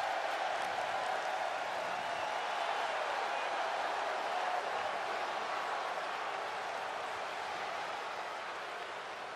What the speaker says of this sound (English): And just listen to that crowd.